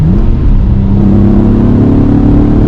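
A 1996 Alfa Romeo 155 V6 sedan accelerates in third gear, a loud, steady engine rumble and whir with a rising tone heard from inside the car, with no voices.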